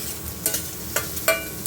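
Garlic, chilli, tomato and capsicum fry in a pan with a steady sizzle, broken by several sharp scraping stirs of a utensil at irregular intervals, close and fairly loud.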